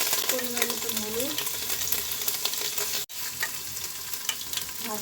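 Whole spices, turmeric and ginger paste fry in hot oil in a pan with a steady close sizzle and stirring, broken by one sudden brief cutoff, with a faint tonal voice early on.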